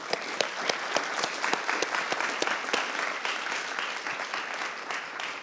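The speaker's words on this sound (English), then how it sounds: "So another round of applause like the first speaker encouraged at the beginning" Applause from the audience at the IC Hack 23 hackathon closing ceremony at Imperial, steady crowd clapping with distinct sharp claps standing out, lasting the full five and a half seconds.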